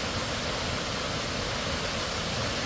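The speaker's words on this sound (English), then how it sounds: "Nice waterfall that's tucked in the mountainside here." Warm Springs Falls, a waterfall tucked into a mountainside, pours in a steady, even rush of falling water, continuous and fairly soft, with no voices.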